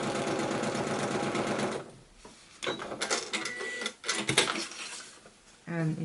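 A sewing machine straight-stitches braided fabric strips with a quarter-inch allowance, running loud and steady for about two seconds before giving way to rustling, handling clicks and a brief restart near the end.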